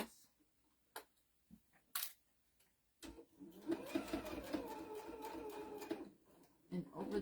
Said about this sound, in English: all we're going to do is sew this